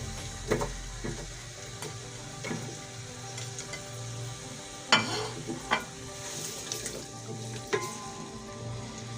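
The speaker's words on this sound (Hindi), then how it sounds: "प्याज लाइट ब्राउन होने तक भूनेंगे" Sliced onions frying in warming oil in a cooking pot, a low steady sizzle under scattered sharp clinks and scrapes of stirring, no voices.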